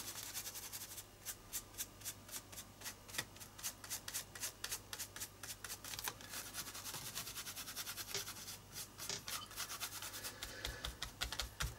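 Colour gently rubbed onto a mixed media art journal page, heard as a quiet, close, rhythmic brushing and rubbing of rapid short strokes over paper, continuous throughout with a faint hum beneath and no talking.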